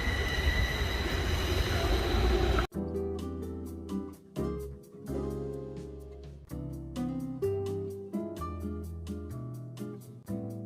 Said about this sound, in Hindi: ट्रेन जा रही है ऊपर से